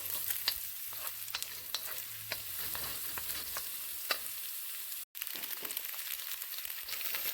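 Chopped vegetables for low-carb Spam fried rice stir-fry over high heat, pushed around with a wooden spoon: a steady, close sizzle with scattered sharp scrapes and clicks, and a brief cutout partway through.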